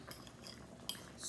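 A utensil stirs food in a pot in a home kitchen, soft scraping and light clinks of metal against the pan, faint and close, with no talking.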